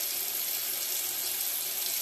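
A steady hiss of tap water running into a sink for face washing, continuous and even throughout with no voices.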